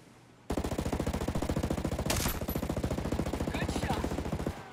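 Sustained automatic gunfire in Ghost Recon Breakpoint, a loud, rapid, steady burst of shots running for several seconds with a brief louder crack partway through.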